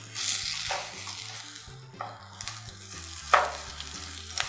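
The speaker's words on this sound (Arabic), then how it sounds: "ونقلبها بالطريقه دي" Rosemary potatoes stirred into rice in a hot pan, a steady sizzle and frying crackle with soft scraping strokes of the spoon and an occasional light clink, close and moderately loud.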